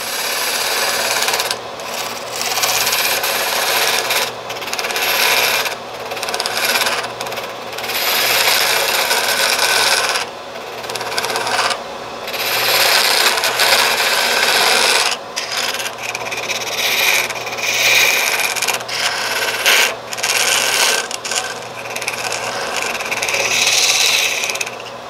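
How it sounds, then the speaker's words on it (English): A hand tool rasps and sands wood in long, steady strokes, loud and close, with brief pauses between passes and no talk. "I'm going to probably sand this out a little bit better"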